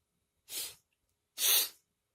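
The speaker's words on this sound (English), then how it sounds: "Sorry for the sniffles there" Two sharp sneezes about a second apart, close and fairly loud, with silence around them.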